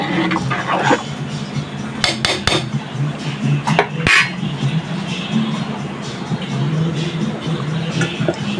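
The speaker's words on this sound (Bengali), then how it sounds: "ভালোভাবে মিশিয়ে নিই" Beef biryani ingredients being stirred together in a cooking pot, with steady scraping and clinking of a utensil against the metal and a few sharper knocks, close and fairly loud throughout.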